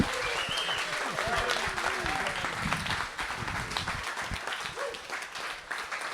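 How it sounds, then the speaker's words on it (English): Audience applause fills a hall at the close of a talk by former pro surfer Joey Buran, a dense, steady wash of clapping with a voice speaking over it. "One more round of applause for Joey Buran."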